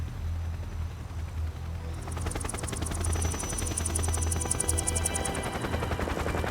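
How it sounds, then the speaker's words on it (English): Several helicopters in Metal Gear Solid 3 approach with a loud, steady rotor chop that builds in after about two seconds, rapid regular beating over a low engine drone, with no speech. "It's a lot of helicopters."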